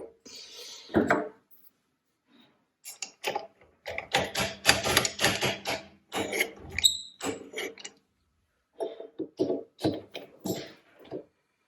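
CJ0618 mini lathe making a cut on a tabletop, with bursts of rapid ticking, chattering cutting noise and short pauses between passes, close and fairly loud, no talking.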